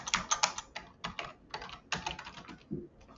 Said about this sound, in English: Let's type in Google Ads.